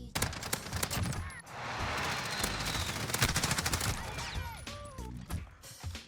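Rapid SMG bursts in Call of Duty Modern Warfare, loud close automatic fire in quick rattling strings over game ambience and mechanical clatter, with faint voices in places.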